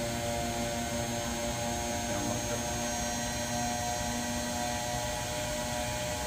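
A thrust bearing test rig spins at 7000 RPM, producing a steady, smooth mechanical whine and hum with fixed tones that hold unchanged throughout, with no voices.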